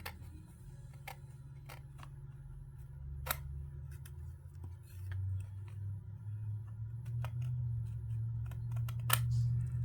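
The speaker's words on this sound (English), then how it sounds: "I'm going to try my scissors." Scissors snip at chocolate-shop material in a quiet room, giving sparse, sharp clicks at irregular intervals over a low, steady background hum.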